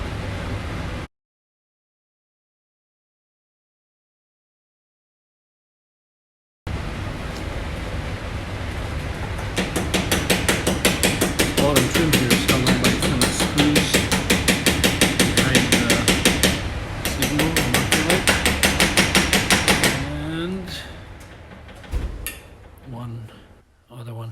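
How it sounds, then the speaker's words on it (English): Metal hammer tapping on a Mercedes C36 AMG engine cover to loosen it, fast repeated close taps running for several seconds after a silent gap, with a voice talking at the start and end. "so be careful when you're trying to tap this off"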